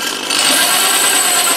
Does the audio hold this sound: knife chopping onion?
no